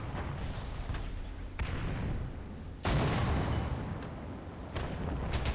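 Tank cannon fire from an AC4 Thunderbolt British medium tank in War Thunder, with one heavy close blast midway standing out against rumbling battle noise and lighter distant shots.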